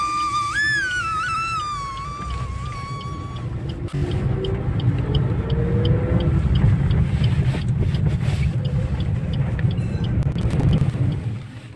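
A car pulls away from a green traffic signal, its engine rising and road noise building steadily and loud up close, with a brief whistle-like tone near the start.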